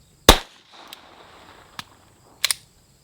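.22 pistol fired outdoors: one sharp, loud crack, then a fainter snap and a quick double crack, each dying away fast into near-silence.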